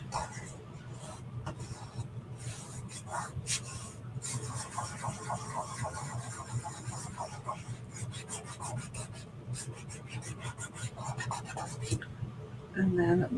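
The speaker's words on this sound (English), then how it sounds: "So now let's burnish." Steady, soft rubbing strokes of a tool burnishing a Chalk Couture transfer onto a wall hanging, close and continuous with quick scratchy back-and-forth passes.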